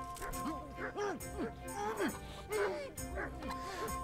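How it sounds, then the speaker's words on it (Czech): Dogs barking in the medieval RPG Kingdom Come: Deliverance, a run of repeated yips and barks at moderate distance, mixed with a player's speech. "Psi jenom štěkají místo toho, aby s tím něco udělali."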